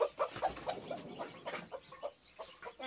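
Hen and chicks clucking and cheeping close by, a series of short, soft peeping calls repeated in an uneven rhythm, fairly quiet with no talking.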